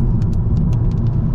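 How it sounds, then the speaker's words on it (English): A VW Golf GTI, Mk8.5, rumbles with a low steady engine and exhaust burble while driving, heard close from inside the car, with faint clicks over the drone. "it makes a nice little burble with the exhaust"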